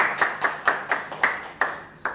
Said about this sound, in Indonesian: Kalau saya panggil, mungkin boleh tepuk tangan ya semuanya.